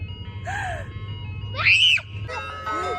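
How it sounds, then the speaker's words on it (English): A tinny ice cream truck jingle plays in bursts of melody nearby, with a low engine hum and a voice underneath. "You hear the ice cream truck?"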